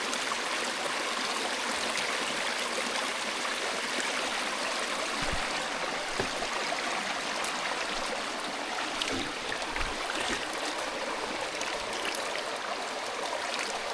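A natural forest stream that flows all year rushes steadily and evenly at close range, with a continuous broadband wash and occasional small splashes and no voices.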